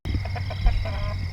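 Egger cockerels, raised together in a backyard coop, give a quick series of clucks close by against a constant low-pitched hum and background noise.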